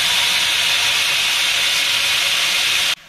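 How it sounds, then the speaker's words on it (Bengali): Nigella seeds (kalo jeere) dropped into hot oil for tempering a Bengali taro stem dish, giving a loud, steady broadband sizzle that runs alone for about three seconds before cutting off abruptly. "এবার অ্যাড করে দিচ্ছি কালো জিরে।"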